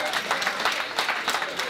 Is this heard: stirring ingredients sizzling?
no